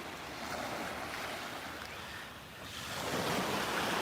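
Surf rolls steadily onto Portobello Beach in Edinburgh, a continuous close wash of breaking waves with light wind noise on the microphone, swelling again after a brief lull.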